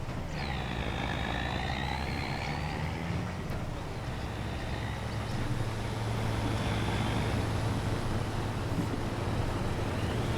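A truck drives in Farming Simulator 25, a continuous low engine drone with a rising whine and a brief high tone early on, steady and close for the whole stretch.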